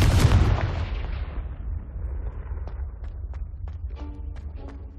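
Loud fiery blast from the Confringo spell in the Hogwarts Legacy video game, a heavy boom up front that decays into a rumbling tail with a few small crackling pops afterward.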